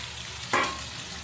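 A brief scrape and sizzle as boiled chickpeas go into a pan of frying vegetables, a single short burst over a steady low hiss.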